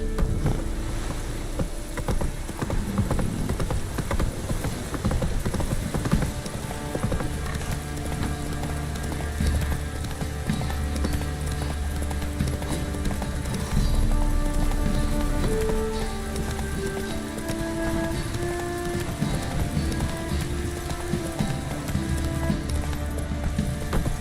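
Roach, a horse in The Witcher 3 video game, clip-clops along steadily with hooves under a continuous game music score, the footfalls fairly close and even throughout.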